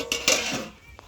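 A bowl and a plate being picked up and set down in a kitchen: a few quick ceramic clinks and knocks, close and moderately loud, with a faint tap near the end.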